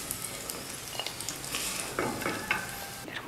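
Cashews, almonds, pistachios, raisins and coconut fry in ghee with a soft, steady sizzle, broken by a few light scraping stirs of a spoon against the pan; no voices.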